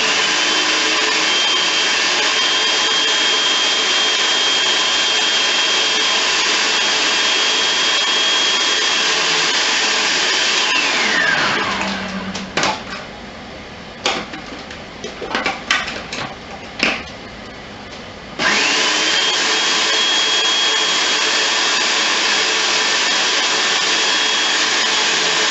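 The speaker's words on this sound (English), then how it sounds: "okay, we're going to puree it." A blender purees cooked pumpkin in a loud, steady whir that cuts out partway through, followed by a few brief clunks and bursts before the motor starts up again and runs on evenly.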